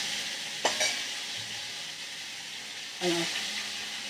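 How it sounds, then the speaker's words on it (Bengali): Whole ripe pointed gourds (potol) frying in a pan, a soft steady sizzle and hiss with two sharper bursts as pieces are turned or moved in the hot oil. "সেই জন্য গোটা গোটা পটলগুলোকে ভেজে নিচ্ছি"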